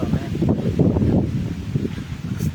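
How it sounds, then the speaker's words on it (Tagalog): Gusty wind buffets the microphone with a low, steady rumble throughout. "Lakas ng hangin dito sa labas"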